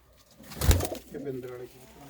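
A pigeon in a loft with nesting birds gives a short, close coo that overlaps with someone talking nearby.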